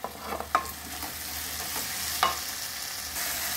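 Tomatoes sautéing with ginger and garlic in a kadai for a Chettinad-style masala gravy, a steady soft sizzle with a few sharp spoon scrapes and stirs near the start and midway, no talking.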